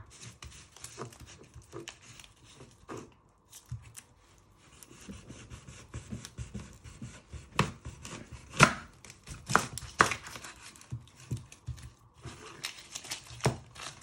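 An onion is chopped with a knife on a cutting board, giving irregular sharp thuds and taps with short pauses between bursts of cuts, close and moderately loud with no talking.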